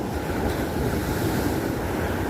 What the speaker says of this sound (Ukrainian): море таке хвилюється, хвилюється, потім заспокоїться. Але хвилі такі довгі-довгі